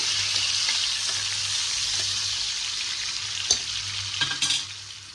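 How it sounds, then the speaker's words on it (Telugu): Onion and tomato frying and being stirred in a pan for prawn pulao, a steady close sizzle with a low hum and a few scraping stirs toward the end. "ఇదిగోండి ఇప్పుడైతే వేగుతుంది కదా టమాటా అయితే మగ్గిందండి"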